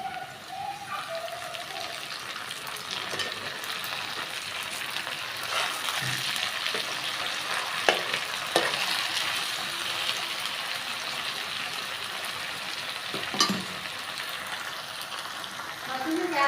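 Jute leaves fry in a pan with small fish, giving a steady, close sizzle with light crackles and occasional stirring scrapes throughout.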